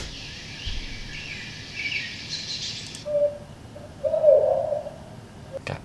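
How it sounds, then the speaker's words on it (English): An owl hoots from an animal ambience sample, two soft hollow calls in the second half, the latter longer, preceded by a faint high airy hiss that stops abruptly, with a clicky tail at the very end. "Got owls."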